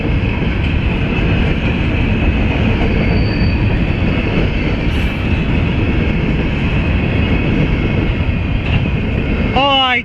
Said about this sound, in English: I didn't get the symbol for this coal train